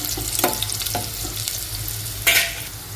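Garlic cloves frying in a pan for horse gram sambar, a steady sizzle with a few stirring scrapes and one brighter burst of spattering near the end.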